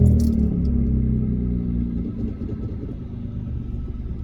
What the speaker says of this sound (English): this exhaust is a straight through design, and it sounds very sport like